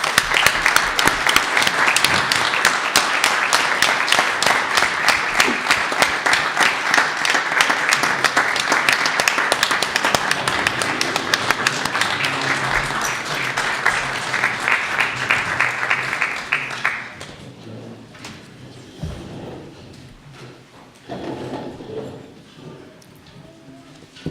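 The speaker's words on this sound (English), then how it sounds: "Let's give them another round of applause" Audience applause honoring Kent Police Department officers at an evening ceremony, dense sustained clapping for about seventeen seconds before dropping to scattered claps and quieter room noise.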